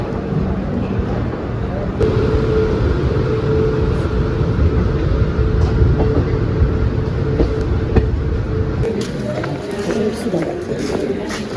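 A passenger train pulls out of the station and runs on, a loud continuous rumble and rattle of wheels and carriages carrying through, with a few sharp clanks and no speech.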